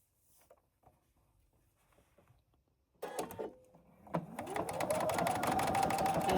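A sewing machine starts up after a quiet stretch of faint handling noise, its motor whirring and needle chattering in a fast steady rhythm while stitching a quarter-inch seam, close and fairly loud.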